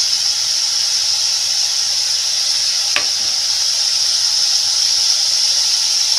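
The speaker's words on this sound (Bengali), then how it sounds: "এবার দিয়ে দেবো আগে থেকে নুন হলুদ মাখা চিংড়ি মাছ" Salt-and-turmeric-marinated shrimp sizzle in a hot pan with a loud, steady hiss, broken once by a single sharp tap.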